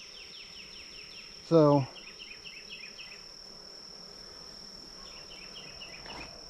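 Honey bees buzzing in an open upper brood box, a faint steady hum with a high insect whine running throughout, and a brief spoken word near the start.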